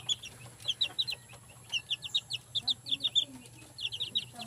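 Wild labuyo chickens kept as pets chirp and cluck in a steady run of short, bright calls spread across the whole stretch, fairly near, over a low background hum.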